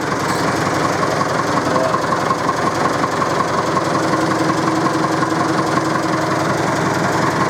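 A small JCB 3D machine's diesel engine runs steadily and loudly up close, a dense continuous rumble with a knocking throb and no pauses.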